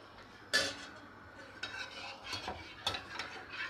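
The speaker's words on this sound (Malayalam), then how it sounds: "പാലും കണ്ടൻസ് മിൽക്കും കൂടെ നന്നായിട്ട് നമ്മൾ മിക്സ് ചെയ്യണം" A spoon stirs milk and condensed milk together in a pot, giving soft scraping and clinking strokes, a few sharper knocks against the metal, close and quiet.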